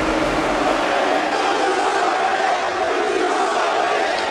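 A Canadian wrestling event crowd roars and chants steadily and loudly, a dense continuous wall of voices with no single speaker standing out.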